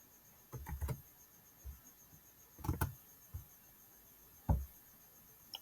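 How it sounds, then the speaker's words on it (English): Someone types on a computer keyboard, with a few soft, scattered clusters of clicks and taps over a quiet background, closing with a single firmer keystroke. "Now I hit enter on my keyboard and let's see what happens."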